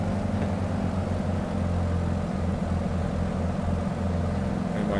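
A light aircraft engine in Microsoft Flight Simulator 2020 drones on during a flight near Antigua and Barbuda. The hum is constant and fairly loud, with low tonal bands and no clear change in level.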